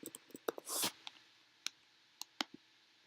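Sharp single computer mouse clicks in a quiet room, several spaced irregularly over a few seconds, with a brief soft rustle in between; faint and close.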